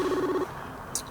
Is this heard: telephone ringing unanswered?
yes